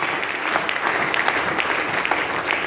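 Church congregation applauding to acclaim God, a steady, dense wash of many hands clapping close by throughout, with faint voices mixed underneath.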